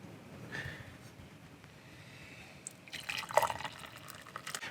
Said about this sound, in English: I'm going to grab some hot water we just boiled on the induction